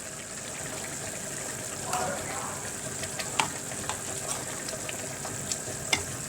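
Liver and bell peppers fry in a pan, a soft continuous sizzle with light clicks and scrapes from stirring, fairly faint and close.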